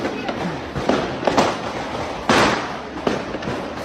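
Fireworks go off inside a train station: several sharp, crackling bangs in an irregular sequence, loud and echoing, with one strong burst near the middle.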